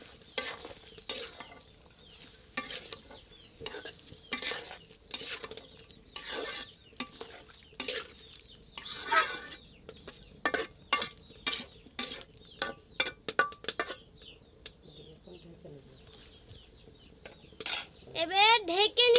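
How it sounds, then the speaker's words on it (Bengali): Beef curry ingredients with bay leaves are stirred in a metal pot, a spoon scraping and clanking in repeated bursts with pauses between, close and fairly loud, ending in a soft sizzle. "ভালো করে মিশিয়ে নেব।"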